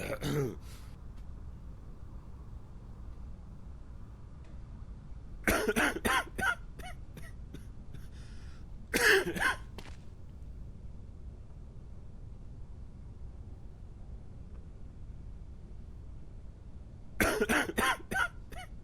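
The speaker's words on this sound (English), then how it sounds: "And you're coughing." A character in the video game Quarantine Zone coughs in four separate short, harsh bursts spaced several seconds apart, with a low steady background hum between them.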